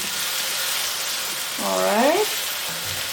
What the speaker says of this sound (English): next we're gonna add the onion. Let this cook for a bit